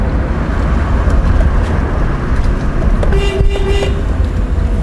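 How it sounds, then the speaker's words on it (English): A car horn gives a short honk of about a second, sounding over steady road rumble and engine noise with no talk. "You'll have to press here for the horn."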